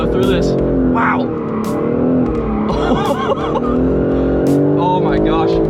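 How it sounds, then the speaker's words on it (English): A stock BMW on a performance-centre track has its tires squealing and breaking loose coming off a corner, engine roaring steadily throughout, with people talking excitedly over the noise. "it is not scared to spin the tires coming off the corner"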